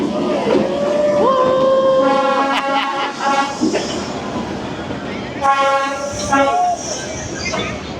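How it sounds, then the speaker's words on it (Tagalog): A train runs through Hanoi close by with a rumbling roll and repeated horn blasts, some long and some short, over crowd chatter and talk. "Talagang gumagana tong train na to."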